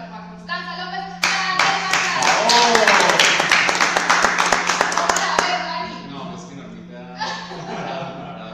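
Studio audience gives a round of applause for Norma Constanza López on a television interview show, a loud burst of clapping that swells and fades, with a voice talking before and after and a steady hum underneath.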